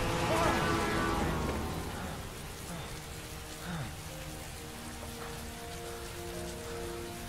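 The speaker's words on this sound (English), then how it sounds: "The audio they picked for the rain is ridiculous." Rain falls in the video game Heavy Rain as a dense, steady hiss of drops on surfaces. It is loudest at the start and continues evenly, with faint talk and tonal game sounds underneath.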